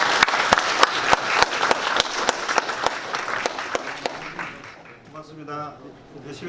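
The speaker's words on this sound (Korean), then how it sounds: "큰 박수 부탁드립니다." At an industry forum ceremony in a hall, audience members applaud with steady, loud, evenly spaced claps that fade after several seconds, followed by someone speaking.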